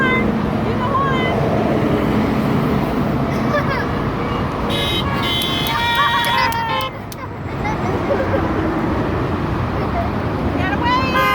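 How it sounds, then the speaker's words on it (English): A car horn toots amid roadway traffic noise, several short honks mixed with passing vehicles while people chatter loudly nearby. "We were the ones who honked at you."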